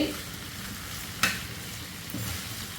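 Potato fry roasting in a pan on a low flame, a soft steady sizzle with one sharp stir-scrape near the middle.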